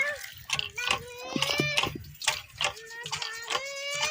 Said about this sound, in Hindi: फिर हम पानी भरने आए इधर नलके पे।